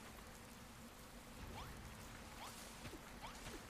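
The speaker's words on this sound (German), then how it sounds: "Es regnet" Steady rain falls in Dragon Quest Builders 2, a continuous hiss of drops on surfaces with a few soft whooshing swishes layered on top, even and moderately loud with no voices.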